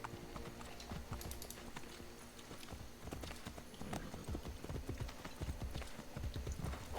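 Steady clip-clop of horse hooves in Assassin's Creed Brotherhood at a quick rhythmic pace, close and clear, with a brief whinny partway through.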